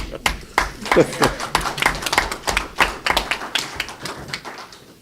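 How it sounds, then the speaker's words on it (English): An audience applauds a guest at a gathering, with a run of distinct, fairly close individual claps and taps in an uneven rhythm and voices heard under them. "Give him a big hand, Bill Davis."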